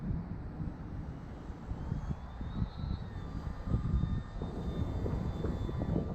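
An FT Bushwacker RC plane with an 880 kV motor flies overhead, its electric motor whining at a shifting pitch over a rumble of wind buffeting outdoors, continuous and moderately distant.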